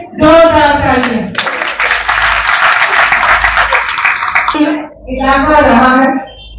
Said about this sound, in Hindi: एक बार मेरी तरफ से तमाम करनाल की इकाई के लिए जोरदार तालियां।